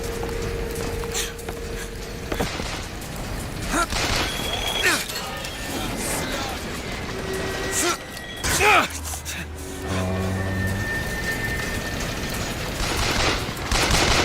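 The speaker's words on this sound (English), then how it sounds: "Oh, there's a gunfire." Bursts of gunfire crack out intermittently amid mechanical clatter and game ambience in Bioshock Infinite, loud and near, with some shattering.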